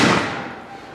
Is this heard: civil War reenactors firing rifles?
yes